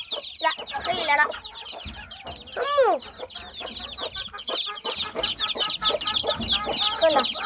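A flock of hens and young chicks clucks and peeps up close, with shrill chick chirps over busy clucking and a faint voice now and then.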